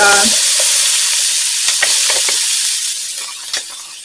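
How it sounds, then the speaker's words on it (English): Diced onion and leftover bell pepper pieces frying in sausage grease in a skillet at 350, a loud dense hiss and sizzle with scattered crackles that eases slightly over a few seconds. "Next, I'm going to add one diced up onion with some pieces that I had left over from the peppers."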